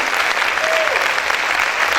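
Sustained loud applause from a church congregation, many hands clapping in a thick, even wash, with a brief voice rising above it.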